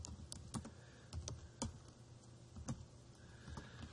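Someone types a business name on a computer keyboard, irregular clusters of crisp close key clicks with short pauses between bursts, quiet and without talk.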